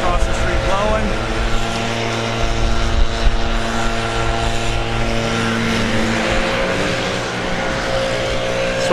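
Steady, loud engine drone of workers running leaf blowers across the street at a property work site, with people talking over it.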